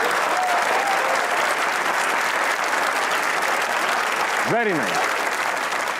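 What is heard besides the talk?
studio audience applause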